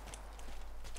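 Horse hooves clip-clop rapidly in a video game, close and fairly loud, several quick hoof strikes over a steady low hum with no speech.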